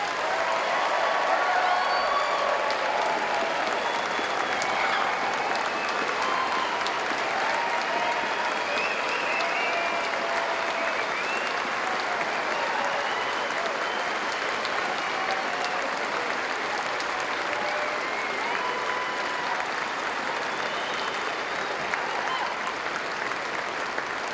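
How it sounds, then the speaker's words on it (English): A ceremony audience gives sustained applause for a newly commissioned U.S. military officer, thick even clapping with faint crowd murmur holding steady for over twenty seconds. "please join me in one last round of applause for our newest U.S. military officer"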